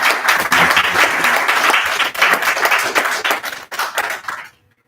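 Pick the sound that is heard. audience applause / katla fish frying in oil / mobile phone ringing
audience applause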